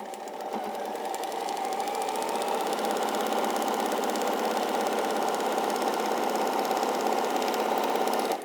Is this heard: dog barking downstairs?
no